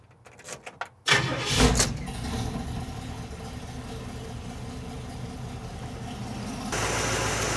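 A car engine idles steadily during air-fuel ratio tuning toward a stoichiometric 14.7 target, a close, even mid-pitched hum following a short burst of starting noise, with a slight shift in tone near the end.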